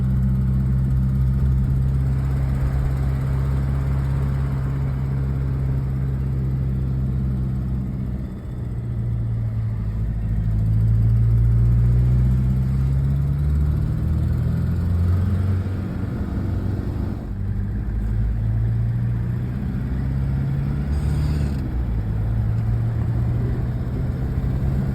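A Toyota Hilux engine running while being driven after an exhaust manifold replacement, a loud, continuous mid-range drone that rises and falls in pitch with gear changes and throttle over about half a minute.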